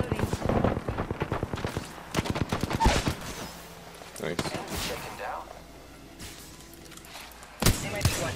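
Gunfire in Apex Legends arrives in sharp bursts of rapid shots mixed with heavier single cracks and thuds, loud and close, fading into quieter stretches before one final blast, with a voice speaking in between.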